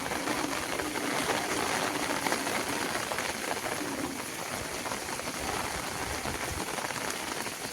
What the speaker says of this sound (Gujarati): ધીમી ધારે થઈ ગયો છે પાછો વરસાદ ચાલુ આજે